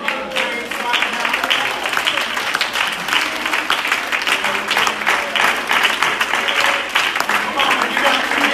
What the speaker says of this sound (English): Could we clap our hands and give praise right now?